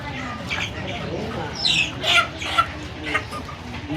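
Chickens at a busy village livestock and bird market in Jharkhand, with clucks and squawks rising out of steady background crowd noise; a few sharp, louder calls stand out over the hubbub.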